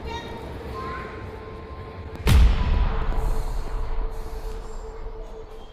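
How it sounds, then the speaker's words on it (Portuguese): A subway train arriving at a metro station, a sharp loud impact midway followed by a sustained low rumble and rolling rail noise that slowly fades, with a voice talking underneath. "gravar a chegada do trem"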